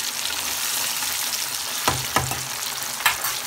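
Chicken pieces fry in plenty of oil in a pan for KFC-style fried chicken, a loud, constant bubbling sizzle close up with a few sharp clinks near the end.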